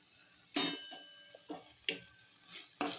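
A spoon stirs a vegetable upma mixture in a pan, giving several distinct scraping strokes in an uneven rhythm over a faint sizzle, close and fairly quiet.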